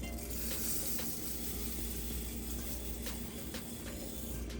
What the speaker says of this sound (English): And now we're going to go ahead and add our rice.